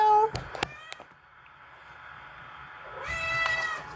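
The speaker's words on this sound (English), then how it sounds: "That kitten, she wants milk." A kitten meows several times in short, high, close cries, then lets out a longer wavering meow near the end, with a quiet room between the calls.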